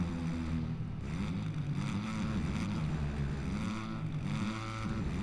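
A 250 motocross bike engine in MXGP 2020 drones continuously with rising and falling pitch, revving out through gears, steady and fairly loud throughout.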